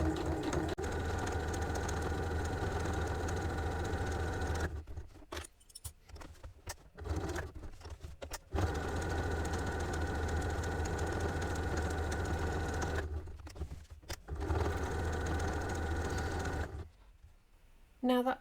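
Sewing machine stitching fabric gift wrap, running in several steady bursts of motor whir and needle clatter separated by short pauses.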